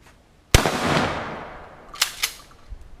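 A shotgun fires once at a radiator in a backyard, a sharp loud blast with a long decaying ring, followed by two smaller sharp impacts or clanks and a faint knock at the end.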